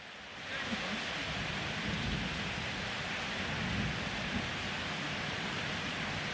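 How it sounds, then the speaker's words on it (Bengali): Heavy rain pours steadily during a thunderstorm with hail in Narayanganj, a dense, constant hiss of downpour filling the space with low rumbling underneath and no voices. "এমন বৃষ্টি আর তুফান"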